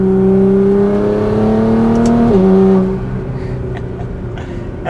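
A 700 hp Nissan GT-R R35 engine drones loudly with a rising pitch, shifts abruptly partway through, then settles into a quieter hum.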